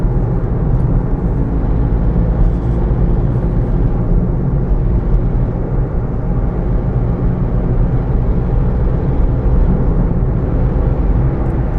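Toyota Aygo driving through a tunnel, a steady enclosed roar of engine and tyre noise that holds evenly throughout with no talking.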